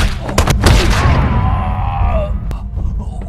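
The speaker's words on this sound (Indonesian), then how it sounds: "Liu ditembak mati oleh Sato dengan sangat tragis" Gunfire in a Wing Chun martial arts action film: a burst of sharp booming shots and thuds up front, then a single crack later amid a noisy soundtrack.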